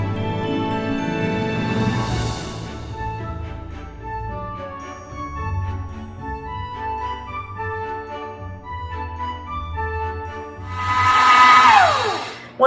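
An electric mixer beats peanut butter cookie dough in short bursts, its whirring rising loudest near the end under steady background music.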